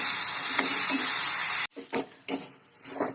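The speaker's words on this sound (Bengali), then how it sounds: "এবার এটাকে ভালো করে আমি লাল লাল করে কিন্তু ভাজবো।" Onion, ginger and garlic frying together in a pan for Bengali-style chicken kosha: a loud steady hiss of sizzling oil, then after a sudden drop several close spoon-stirring scrapes and clatters over a quieter fry.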